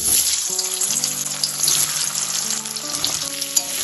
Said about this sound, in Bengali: আলুগুলো 2 থেকে 3 মিনিট একটু ভেজে নেবো তেলে